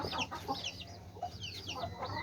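Aseel hens cluck and chatter continuously, several birds close together, with soft overlapping calls over a low background hum.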